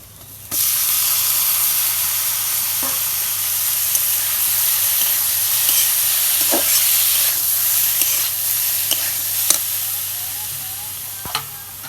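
Small puti fish fry and are stirred in a pan, cooked with gourd. A steady, close sizzle hisses throughout, with scattered scrapes and clicks from the stirring and no talking.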